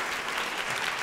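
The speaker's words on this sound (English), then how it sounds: "Please give him a round of applause." A live podcast audience breaks into loud, dense applause, a continuous wash of clapping from a large crowd with no voices over it.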